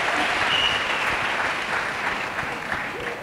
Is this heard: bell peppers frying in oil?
no